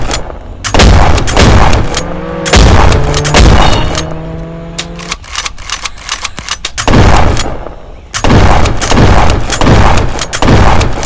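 Gunshots in the Roblox Jailbreak video game, loud bursts of rapid automatic fire separated by short pauses, with a brief tonal hum partway through.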